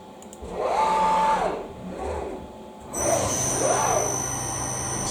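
A Tormach CNC lathe machines washers: whirring spindle and cutting passes rise and fall in pitch in repeated cycles, with a steady higher whine joining partway through.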